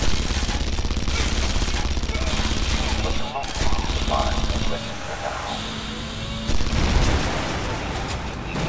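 A mounted gun in the video game Red Faction Guerrilla fires in long rapid bursts, loud and rattling with engine rumble and occasional breaks, under background game noise.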